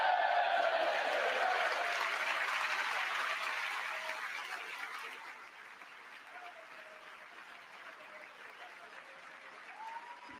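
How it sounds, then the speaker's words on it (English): Applause fills the chamber of the US Congress during a Trump speech to a joint session, a dense, sustained clapping from a large crowd that gradually thins and fades over several seconds. "you see half the side clapping and half the side just sitting down on their thumbs"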